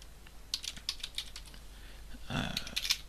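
Fingers typing a web address on a computer keyboard, a quick run of light close key clicks followed by a brief denser cluster of taps, faint and alone without talk.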